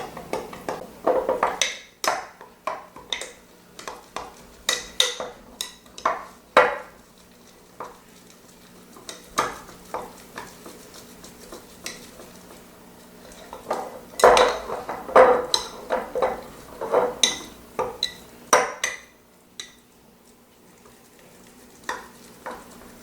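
A table knife stirs and scrapes sourdough starter paste inside a jar, giving close clinks and scraping taps in irregular bursts with short quiet gaps between them.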